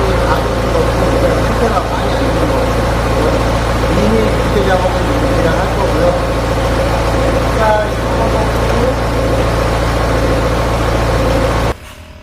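A Mini Cooper engine idles roughly, shaking badly, with a low, uneven rumble and a steady hum, running continuously for several seconds before cutting off near the end.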